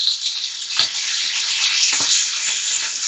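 Guanciale with a crushed whole garlic clove fries in a pan as its fat renders, giving a steady, fairly loud high sizzling hiss with a few soft stirring scrapes and no talking.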